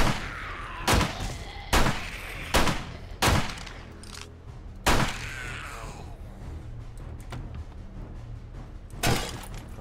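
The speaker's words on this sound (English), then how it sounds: "I'm gonna shoot them." Gunshots in the survival video game 7 Days to Die: about six loud, sharp reports spaced roughly a second apart, each with a short echoing tail, followed by quieter ambience and one final shot near the end.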